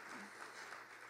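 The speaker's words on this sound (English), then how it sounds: "Clara Carter, we can applaud" A luncheon audience at an awards event applauds the event's founder, a brief stretch of steady, diffuse clapping heard faintly from across the room.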